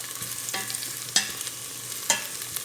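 Onion and garlic sautéing in a pan for chicken sotanghon guisado, a soft steady sizzle with two or three sharper scrapes of a spoon stirring through, close by and with no voices.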